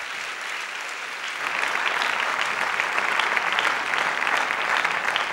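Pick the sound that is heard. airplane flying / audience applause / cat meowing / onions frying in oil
audience applause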